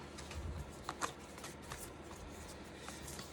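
Soft, continuous riffling of tarot cards being shuffled close by, with a couple of slightly sharper flicks partway through.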